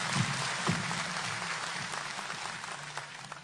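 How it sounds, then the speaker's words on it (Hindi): Audience applause for the Chief Minister at a Dehradun event for newly appointed primary teachers, a steady wash of many hands clapping that fades slightly toward the end. "सभी की तरफ से सर के लिए एक जोरदार ताली आप सभी दें"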